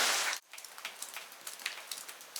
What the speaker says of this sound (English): There's hail coming through the cracks in this cave now.